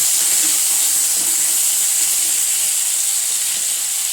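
Curry cooking in a pan for soya chunk curry, a constant broadband hiss of sizzling with steam, even and close, running without pause or speech.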